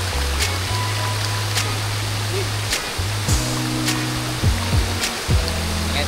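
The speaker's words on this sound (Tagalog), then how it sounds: "Guys, natawid pa pala ng ilog." River water rushes steadily as a group crosses a steep, slippery river in South Cotabato, Philippines, a broad continuous wash with faint low hums and no clear speech.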